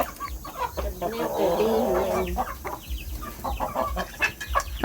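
Chickens cluck and chatter at a Thai chicken farm, a close, busy flock sound running steadily through the whole stretch with brief louder squawks.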